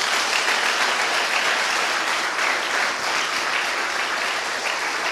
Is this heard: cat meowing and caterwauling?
no